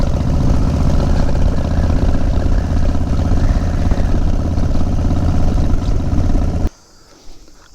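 A Harley-Davidson Dyna with forward controls rumbles loudly and steadily at low speed as it pulls up, its engine note continuous until it cuts off abruptly near the end, leaving quiet background.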